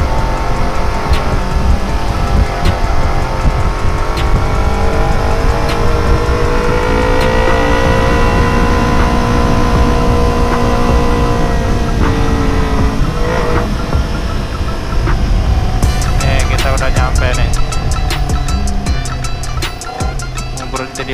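Dense traffic of cars and motorbikes stuck in a jam near Monas in Jakarta, beside roadworks, gives a continuous loud, close rumble of engines with occasional revving throughout, and no talking.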